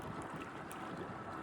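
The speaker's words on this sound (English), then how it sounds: "I know it's super duper windy right now." Steady wind rumbles and roars across the microphone outdoors by the shore, a constant broadband whoosh with no voices.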